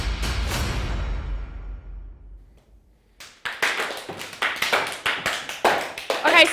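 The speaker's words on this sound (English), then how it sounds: "Why are we clapping off beats?" A group claps along out of time, a ragged series of sharp claps and taps after a decaying crash-like tail, with voices mixed in, close and moderately loud.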